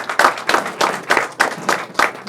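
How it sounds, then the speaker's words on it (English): Scattered applause from a summit audience, a few people clapping in uneven bursts, fairly close and moderately loud with no talk over it. "Give them a big round of applause."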